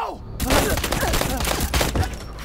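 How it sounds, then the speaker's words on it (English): Loud, dense gunfire in the video game Resident Evil Village, with heavy continuous blasts and booming impacts filling the whole stretch and a voice briefly audible over the din. "She really didn't react to the first gunshot, did she?"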